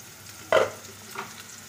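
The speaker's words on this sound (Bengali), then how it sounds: "আলুটা আমি ভালোভাবে নেড়ে নিয়েছি" Potatoes frying in a pan for a curry, a soft steady sizzle with one distinct stirring scrape followed by a fainter second stir.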